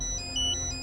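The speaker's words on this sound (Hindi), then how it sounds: "फोन बज रहा है" A short, thin electronic ringtone chirps briefly over a quiet low hum, faint and close.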